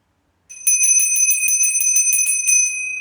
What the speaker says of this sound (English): turn down your volume so that it doesn't hurt when I ring this bell